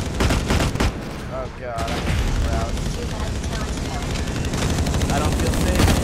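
Dense, sustained gunfire from the online shooter Blacklight: Retribution during a capture-the-flag match, with rapid automatic bursts and explosions running nonstop, loud and close, under a player's brief exclamations.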